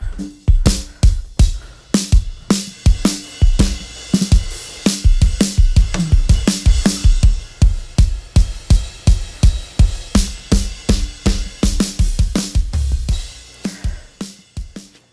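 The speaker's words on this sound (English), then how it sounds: "So all of the drums together sound like this." A full drum kit in a church live-sound mix, the kick, snare and cymbals playing together as one processed, clean-sounding group. Loud, steady rhythmic hits keep a driving beat for the whole stretch, with no voices.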